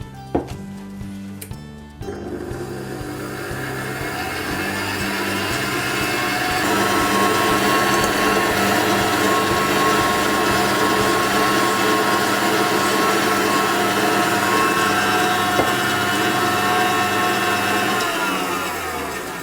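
An electric whisk beating egg whites with sugar toward soft peaks, a loud, steady whirring drone that starts after a few seconds of clatter and holds constant to the end, with no talk.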